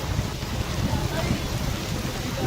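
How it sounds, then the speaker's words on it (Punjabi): Dense, steady heavy rain hissing and pattering close by in Zira, Punjab, a continuous wash of noise with no pauses. "ਕਿੰਨਾ ਮੀਂਹ ਆ ਗਿਆ ਸਾਡੇ ਮੀਂਹ ਬਾਲਾ ਪਈ ਜਾਂਦਾ ਹਜੇ ਵੀ ਪਈ ਜਾਂਦਾ"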